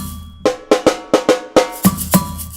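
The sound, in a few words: two drum hits as samba bateria response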